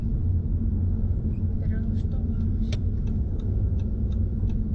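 A car engine hums low and steady through a driving lesson, rising a little as the car speeds up, with faint ticking and cabin rumble and a brief voice partway through.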